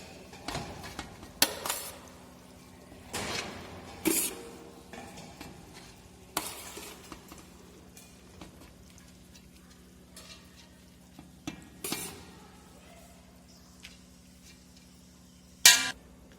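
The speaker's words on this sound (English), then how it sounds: "So here we have taken a pot in which we will be first making a layer of rice." A spoon scrapes and knocks against a pot while rice for chicken biryani is layered in, giving scattered sharp clinks and scrapes with quiet gaps and a low steady hum behind them.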